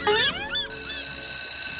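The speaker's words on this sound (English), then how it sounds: "Either I've got a really bad ringing in my ears" A cartoonish electronic bell or alarm tone rings steadily and loudly for most of the clip, after a brief warbling, meow-like squeal at the start, with no talking.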